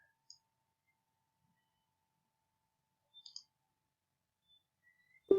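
A computer mouse button clicks a few times at a market trading chart, with soft, isolated clicks spaced apart in an otherwise quiet room and a sharper click at the end.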